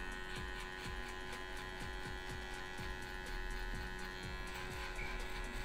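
An electric hair trimmer finishing a low fade on Afro hair buzzes steadily, with its tone dipping in short repeated strokes as it passes along the head, close and alone.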